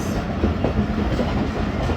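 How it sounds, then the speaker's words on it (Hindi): The Jaffar Express runs on rails, giving a loud, close, steady rumble with faint rhythmic wheel clatter on foggy winter tracks between Attock and Domeli, and no voices. "ट्रेन स्लो तो हो गई है लेकिन रुकेगी नहीं।"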